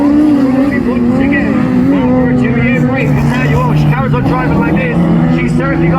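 Racing cars at a national ladies and juniors race meeting, engines droning and rising in pitch as they accelerate past, loud and continuous beneath a commentator talking excitedly throughout.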